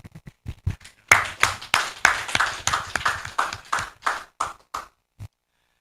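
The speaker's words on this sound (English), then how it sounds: "I personally deserve to clap, give you a round of applause." A round of hand clapping at a public PhD defense, a steady run of sharp claps swelling into brief applause for a few seconds, then thinning to scattered single claps and stopping.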